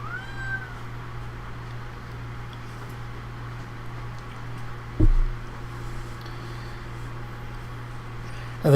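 A cat gives a single short meow near the start, followed by a quiet steady hum and a couple of brief thumps.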